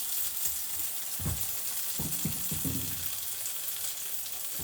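Butternut pumpkin dip sizzling inside a Tupperware Micro Pro Grill, a steady close crackle and hiss with scattered soft pops and clicks running throughout.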